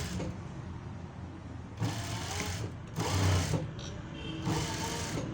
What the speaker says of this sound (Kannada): ಇವಾಗ ಸ್ಟಿಚ್ ಹಾಕೋಣ